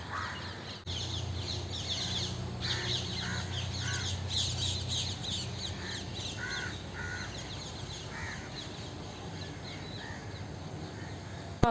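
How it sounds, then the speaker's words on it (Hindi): Crows caw repeatedly in harsh, squawking bursts at moderate distance at the Red Fort, several birds overlapping against a steady background hum. "आपको ये लाइव चिड़ियों की आवाज़ सुनने को मिली,"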